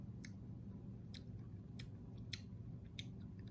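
Soft, faint crunches of small sugar crystals being chewed, a handful of brief crisp clicks spaced unevenly over a quiet, low background.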